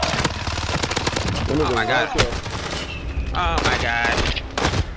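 Rapid gunfire bursts from the online shooter Warzone, with an M13 assault rifle in play, crackling loudly and continuously beneath excited overlapping voices of players talking throughout.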